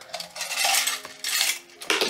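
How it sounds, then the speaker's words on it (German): Aluminium crochet hooks dropped into a tool box, a burst of bright metallic clattering and jingling, then more rattling as further hooks land, close and fairly loud with no talking. "Noch die anderen Häkelnadeln rein."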